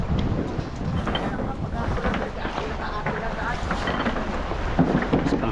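Wind gusts across a fishing boat out at sea, a rough, continuous rumble and buffeting against the microphone, with people talking intermittently over it.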